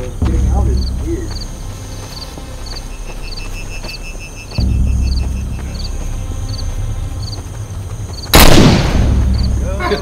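Gunfire in a video game, steady rapid-fire shots repeating under continuous game noise, with a loud burst near the end, while players talk over it.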